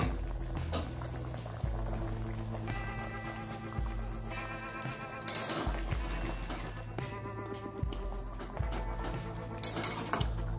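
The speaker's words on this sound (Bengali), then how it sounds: "মাছের ঝোলটা হয়ে গেছে। এবার আমি মাছ কটা দিয়ে দিলাম।" A Bengali home-style fish curry bubbles at a steady simmer in the pot after the fish pieces go in, with continuous close boiling beneath prominent background music.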